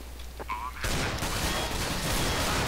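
Gunfire erupts in Counter-Strike: Global Offensive, a sudden loud dense burst of rapid shots that starts after a brief quiet moment with a faint voice and continues without pause to the end.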